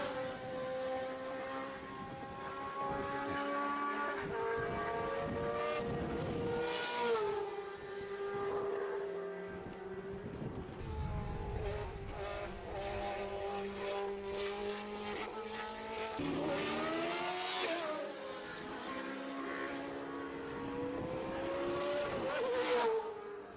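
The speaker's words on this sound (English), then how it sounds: "So the rasp of the DFV engine, you hear it now, cars weaving around, getting a bit of temperature into the tyres" Classic racing cars with Cosworth DFV V8 engines at Estoril weave around the circuit to warm their tyres, a raspy high-pitched engine note rising and falling as cars pass, with occasional louder surges and brief tyre noise.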